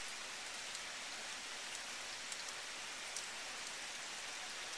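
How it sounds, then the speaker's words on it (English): Heavy rain from Hurricane Irene in 2011 pours steadily in the morning, a dense even hiss of drops on surfaces with a few faint nearby patters and no voices. "it looks like a lot of rain"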